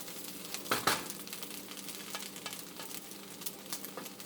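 Eggs are stirred into rice frying in a pan, giving a steady nearby sizzle with scraping and clinking from the stirring, loudest in a short burst near the start.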